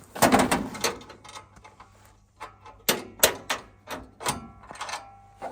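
A mini tractor's hood is shut in a farm-equipment comparison of the Jinma 404SN and Kentavr 404S, giving a series of sharp metallic knocks and thuds, a loud cluster at the start and several more spaced clunks after a brief pause.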